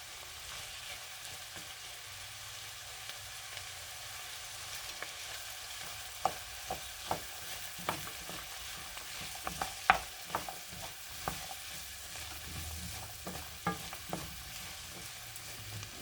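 Bolognese ingredients cook in a pan, a steady low sizzle with scattered clicks and taps of a stirring utensil, close and fairly quiet, with no talking.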